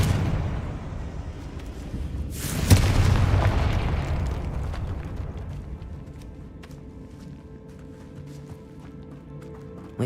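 A Confringo blasting spell from Hogwarts Legacy bursts in a single loud, sudden explosion early on, then rumbles and fades into a low, steady game ambience with no talking.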